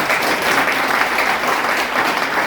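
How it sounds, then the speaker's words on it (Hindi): Sustained, dense applause from a seated audience honouring a teacher at a Teachers' Day gathering at an agricultural college, steady and loud throughout with no break. "तो एक बार सर के सम्मान में एक अच्छी तालियों का गड़गड़ाहट बनती है"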